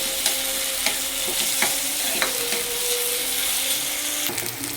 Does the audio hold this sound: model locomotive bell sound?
no